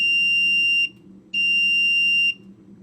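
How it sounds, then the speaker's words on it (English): A Digispark-driven OLED timer emits two long, piercing electronic beeps, each close to a second, separated by a short silence and set over a low background hum. "So it's a really annoying beep, but 1 beep 4 seconds indicates the first cycle."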